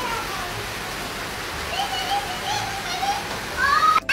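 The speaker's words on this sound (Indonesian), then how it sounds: "Ini kayaknya lagi hujan ya. Tuh, deras banget hujannya." Heavy rain pours outdoors beside a garden fish pond, a steady, dense hiss that holds for the whole stretch, with faint children's voices and chatter mixed in near the end.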